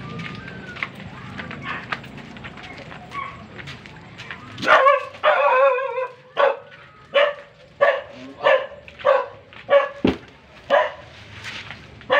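An angry dog barks repeatedly, loud and close, first in a few scattered bursts and then in a steady run of evenly spaced barks, with some voices earlier.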